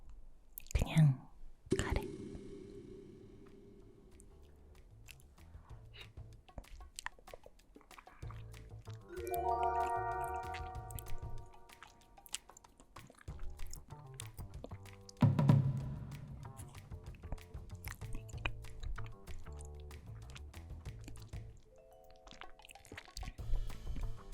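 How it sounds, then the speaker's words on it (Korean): Spicy hellfire curry being eaten close to the microphone, with wet squishy mouth sounds and slurps between soft whispered talk, plus a few sharp clinks near the start. "지금 먹으려고 하는 건 지옥 불카레입니다."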